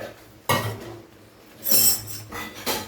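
Semolina soaked in water being stirred in a bowl for a Bengali palm-fruit fritter batter, giving a few scraping, clinking strokes of spoon against the bowl in short bursts with quiet gaps between.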